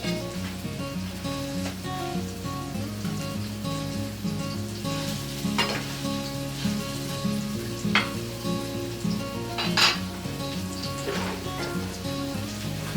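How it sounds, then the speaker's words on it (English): Beef for hamburgers frying in a hot pan, a dense continuous sizzle with crackles and occasional louder pops, under a steady background hum, with no talking. "You roll the fat around in the pan."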